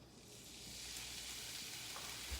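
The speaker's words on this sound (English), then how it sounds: "I'm gonna go ahead and put my steak in." A steak hits a pan on medium-high heat, and a faint hiss swells into a steady, continuous sizzle that carries on alone.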